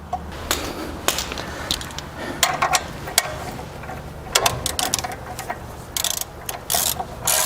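Spring tool on a 1963-87 Chevy GMC front coil spring being tightened down, a rapid ratcheting clatter of metal clicks in uneven bursts, close and fairly loud, with no talking.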